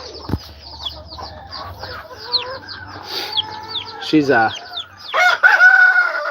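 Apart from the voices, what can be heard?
DeKalb Leghorn-cross chickens clucking and crowing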